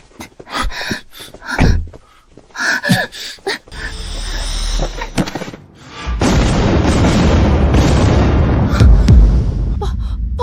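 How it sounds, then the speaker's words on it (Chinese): A car bomb detonates in a parked car after being set off, a loud blast that gives way to a long, heavy roar of burning and debris; sharp bangs and voices precede it. "爆炸了！"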